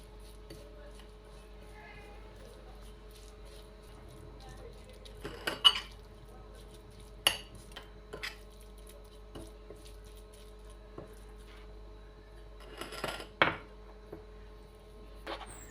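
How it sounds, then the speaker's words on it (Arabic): Spiced sardine stuffing is mixed in a bowl, heard as sparse clinks and scrapes of a utensil against the dish over a quiet background, with brief louder bursts of squishy mixing. "نخلط هذا الحشوه مليح"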